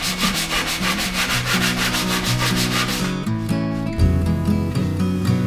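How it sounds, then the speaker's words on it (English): A sanding block rubs the notch where a wooden dinghy's keel meets the transom, making rhythmic back-and-forth scraping strokes, close and steady. "using a sanding block to clean up the notch where the keel meets the transom"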